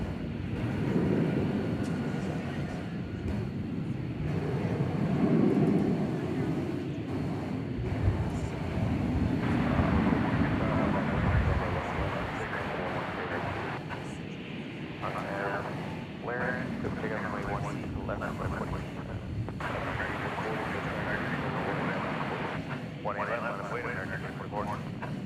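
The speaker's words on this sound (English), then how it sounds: "Traveling now to Seattle is this American Airlines Airbus A321" American Airlines Airbus A321 departing DFW at night for Seattle, a broad jet rumble building then steadying at a distance, under continuous commentary and some wind on the microphone.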